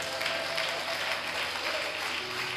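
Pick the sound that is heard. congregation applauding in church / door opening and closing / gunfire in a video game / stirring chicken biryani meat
congregation applauding in church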